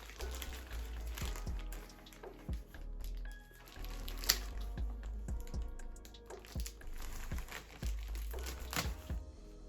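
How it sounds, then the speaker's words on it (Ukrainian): Crinkly plastic of a mailing bag rustles and tears in short handled bursts as it is ripped open, with scattered clicks and crackles close by. "Давайте оцей пакет жахнемо"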